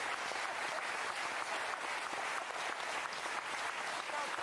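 A studio audience on a French television show applauding Ben and Arnaud Tsamère, a dense, steady burst of clapping from many hands.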